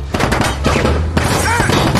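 Gunfire from attackers in a car erupts in loud, close, sharp bursts, several shots cracking in quick succession over a couple of seconds with thuds and some background noise.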